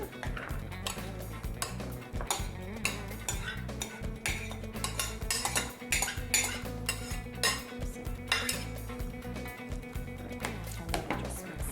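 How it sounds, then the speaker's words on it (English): Salad ingredients being tossed together in a bowl, with utensils clinking and scraping against the dish in a busy, irregular rattle throughout, under faint background music. "We toss all the ingredients here together."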